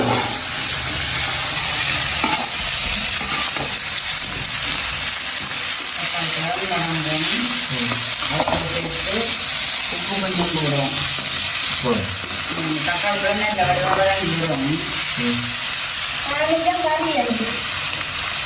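Onions for a leftover-idli podimas sauté loudly in a pan, then tomatoes go in. A dense, continuous crackling sizzle runs close throughout, and voices talk over it in the middle stretch.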